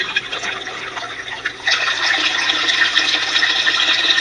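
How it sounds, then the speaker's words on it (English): Water rushing steadily through a deep-well fine gold sluice, a continuous close-up wash of flow that grows slightly louder and fuller partway through, with no talking. "this will give you kind of an idea of what the water flow looks like up close"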